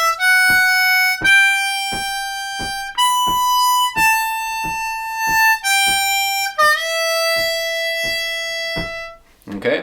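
A harmonica plays the opening lick of a song's solo: a run of sustained, reedy single notes shifting in pitch, close and loud, with no talking.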